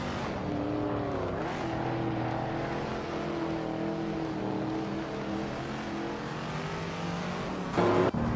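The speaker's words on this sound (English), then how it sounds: "Amy is driving a 1994 Toyota Celica GT4, currently in 19th place" Steady engine drone of a 1994 Toyota Celica GT4 in a racing video game, a continuous mid-level hum with slowly shifting pitch and a brief louder burst near the end, no talking.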